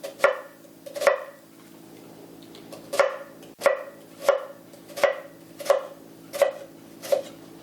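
A knife chops through an onion on a cutting board in crisp, evenly spaced strokes, about ten sharp cuts ringing out close and clear with little else around them.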